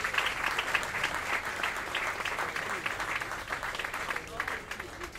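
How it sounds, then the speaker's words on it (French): Audience applause at a literary prize ceremony in a café, a sustained, moderately distant patter of many hands clapping with a low murmur of voices underneath. "Karine Lambert, Bernard Ménez, on peut les applaudir."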